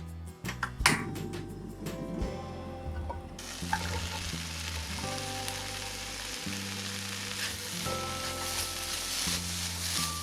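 Soaked rice cakes are stir-fried in a dry pan with no oil, giving a continuous close sizzle with scraping, stirring clatter and a few sharp knocks at the start.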